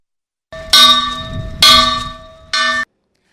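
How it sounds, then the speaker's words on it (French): A school bell at the Bedr 1 school in Zouérat rings loudly at the start of the new school year, clanging in three separate bursts, the last one shorter. "La cloche a sonné après 3 mois de vacances annonçant l'ouverture de la nouvelle année scolaire à Zouérat"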